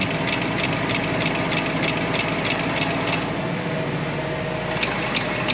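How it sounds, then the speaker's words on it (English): A rebuilt Vogelsang macerator runs driven by a tractor, a loud steady mechanical drone with a faint rhythmic whirring pulse, heard close and continuous without talk. "Full rebuild on a Vogelsang macerator"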